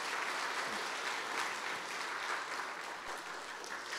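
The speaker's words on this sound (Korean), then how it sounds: "큰 박수 부탁드리겠습니다" Sustained applause from a church congregation fills a Sunday afternoon worship service, steady and dense for several seconds with no break.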